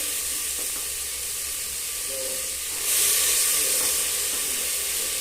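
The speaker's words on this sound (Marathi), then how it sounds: "छान असे परतून घ्यावे।" Horse gram with rice masala sautéing in a pan, a steady close hiss and sizzle of frying that swells louder partway through, with faint stirring and no talking.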